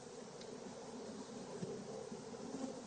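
Honey bees in a hive box give a faint, steady buzzing hum heard from close by, an even drone with slight fluctuations and a few brief louder passes, with no voices.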